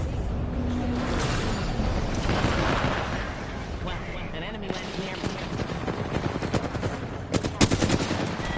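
Rapid automatic gunfire in Apex Legends strikes a wall, sounding as dense, sustained bursts of shots with sharp impacts that run the whole stretch, under and between a player's voice.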